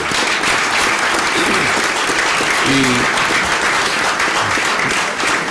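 Sustained audience applause fills a congress hall on the truth about the Nazca mummies, dense and steady throughout, with a few faint voices murmuring underneath.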